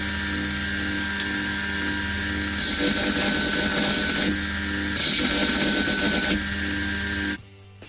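Buzzing, crackling welding on stacked layers of 1095 and 15N20 steel for a Damascus billet, bursts of harsh sizzle over a steady mechanical hum, stopping abruptly at the end.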